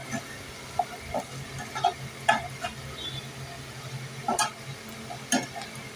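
Ginger and garlic frying with browned onion in a pan, soft sizzle with intermittent stirring clicks and scrapes of a spoon against the pan, close and fairly quiet, no talking.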